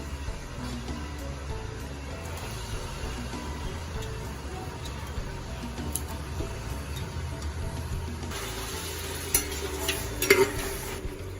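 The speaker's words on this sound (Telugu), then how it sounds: "ఇప్పుడు దీనిలో శుభ్రంగా కడిగి మటన్ వేసుకోవాలి." Washed mutton goes into a pot for Hyderabadi haleem and is stirred, giving a steady, continuous sizzle and scraping that stays fairly even throughout, with a few sharper clinks of the utensil near the end.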